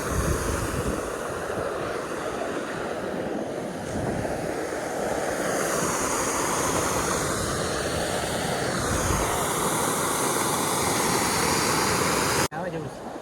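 Water rushes steadily at a dam and stream in Dantiwada, a loud continuous roar mixed with wind buffeting the microphone, lasting throughout.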